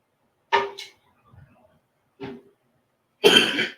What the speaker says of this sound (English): Still got a little bit of that residual cough going on.